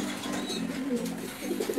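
Pigeons coo softly inside a double cage built from fruit crates, low throaty calls overlapping in a steady murmur with a few clearer coos toward the end, close by and without talk.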